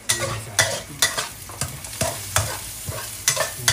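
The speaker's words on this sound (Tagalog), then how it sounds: "So, nagisa na niya ang sibuyas, bawang." Onions are sautéed in a pan for Batangueño-style pork kaldereta, with a steady sizzle of frying under a regular rhythm of spoon or spatula scrapes and knocks against the pan, close and moderately loud, with no voices.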